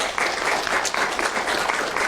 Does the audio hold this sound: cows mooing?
no